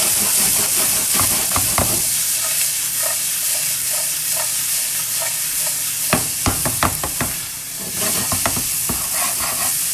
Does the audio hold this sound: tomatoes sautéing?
yes